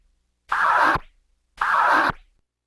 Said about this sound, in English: a stab would be one push with the record and one push with the fader